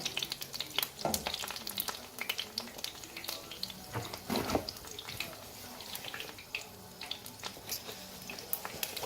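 Chicken flautas frying in a pan of hot oil, giving a steady crackling sizzle with scattered sharp pops and a brief louder burst of bubbling partway through, close and alone with no talk.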